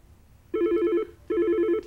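A telephone rings in two even bursts, each a rapid trilling bell lasting under a second, close and clear with no voices over it.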